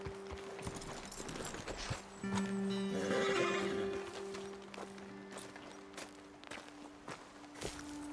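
Video game horses whinny loudly nearby while hooves clip-clop at a slow walk, with a few snorts in the background.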